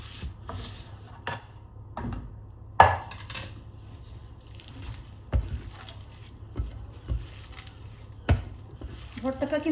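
Fried sweet pumpkin stirred into mustard oil in a pan: a spoon scrapes and clacks against the metal in a loose rhythm of sharp knocks, with soft mashing and faint sizzle between strikes.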